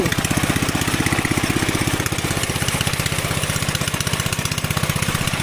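A farm machine engine running in a rice paddy, a steady close chugging drone with a fast regular pulse and a broad rough hiss layered over it, constant and loud throughout with no speech.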